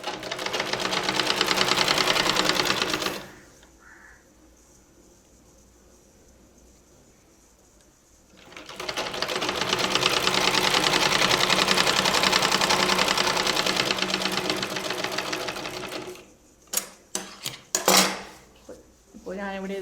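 A sewing machine stitching a half-inch folded hem at the bottom of a churidar, running in two long steady whirring bursts separated by a quiet pause, then a few short stop-start runs.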